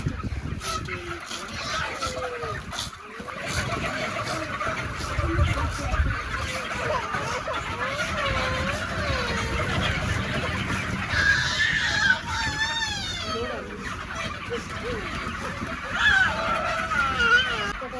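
Chickens on a poultry farm cluck and squawk steadily as a dense flock, with a continuous background hum and people talking over them throughout.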